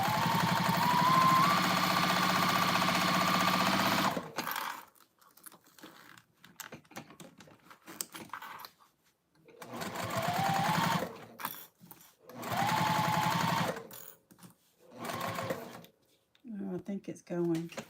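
A sewing machine runs in several bursts while stitching a lined circle bag with a zipper pocket, whirring steadily for stretches of a few seconds, with quiet gaps and someone talking between the runs.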